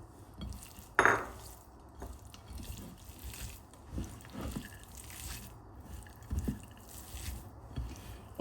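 Fried tuna is mashed and mixed by hand in a bowl for a diet bhorta, giving soft, wet squelching pressings at irregular intervals, with an occasional clink against the dish, close and fairly quiet.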